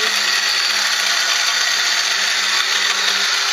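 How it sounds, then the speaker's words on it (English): Electric spice grinder milling curry powder spices, a loud, high-pitched continuous whirring drone, steady and close throughout with no pauses or talking. "So we grind up them spices"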